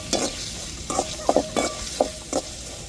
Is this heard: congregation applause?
no